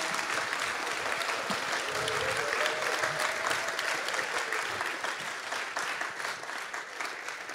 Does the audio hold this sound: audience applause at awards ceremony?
yes